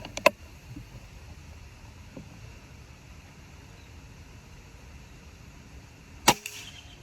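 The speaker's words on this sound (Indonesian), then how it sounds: "Tembakan kedua." Two sharp cracks, a short snap at the start and a louder shot from a Combat PCP air rifle with a Yumaja barrel near the end, over steady quiet background noise.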